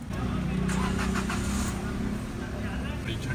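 A car engine idling while warming up on a cold day in a village in Balochistan, a low steady rumble running throughout beneath a man's speech and some background noise.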